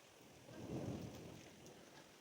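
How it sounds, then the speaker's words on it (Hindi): A low rumble of thunder swells and fades beneath a steady roar of heavy rain, heard from indoors just inside a gate during a downpour. "ये जोड़ गरज रहा है"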